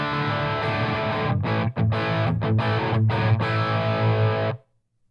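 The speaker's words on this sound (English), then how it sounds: "we do have the original heavy and heavier sounds in here." Electric guitar played through a Heavy Menace distortion pedal on a lighter gain setting, thick sustained chords with a few quick rhythmic stops, then cutting off abruptly near the end.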